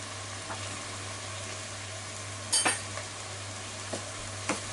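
Shirataki noodles and canned mackerel are stirred in a pan with bonito stock and cooking sake, giving a soft, steady sizzle with a few sharp utensil scrapes and clinks against the pan.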